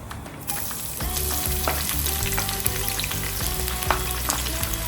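Onions hit the pan for a mutton biryani masala and fry in a loud, steady, close sizzle with the crackle of hot oil and a few stirring scrapes, no voices.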